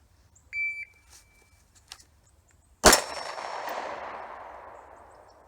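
A shot timer beeps at an outdoor shooting range, followed by a single loud, sharp pistol shot that rings out with a long decaying echo, with no talking.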